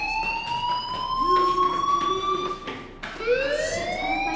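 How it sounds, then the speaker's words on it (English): A fire alarm wails in the game Life is Strange, a loud electronic tone sliding slowly upward, dropping at a brief break, then rising again continuously without talk. "do you hear that fire alarm?"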